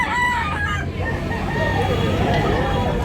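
A rooster crows at a busy Sunday poultry market in Tabunok, Talisay, Cebu, its call rising above a steady crowd murmur and nearby chatter.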